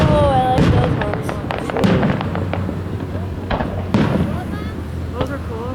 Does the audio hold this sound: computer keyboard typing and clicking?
no